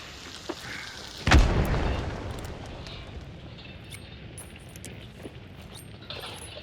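In the video game Hunt: Showdown, a fire bomb goes off with one sharp, loud blast. A rolling boom follows and slowly fades into a low rumble, and a faint crackle continues for several seconds.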